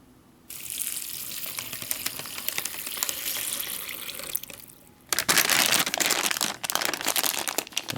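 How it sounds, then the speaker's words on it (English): Water is poured into a flameless ration pouch holding dry noodles, with crinkling of the pouch first and then a loud, steady gushing pour that pauses briefly and resumes. "And I'm going to go ahead and add our 8 ounces of water."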